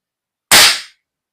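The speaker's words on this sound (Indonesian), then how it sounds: "Kita kokang, lalu kita tembakan." A single sharp, loud crack of a wooden toy gun being cocked and fired, with a quick bright burst that decays within half a second.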